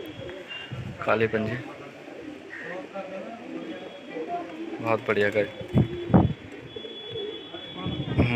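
Madrasi pigeons coo in soft, repeated bursts close by while someone talks over them.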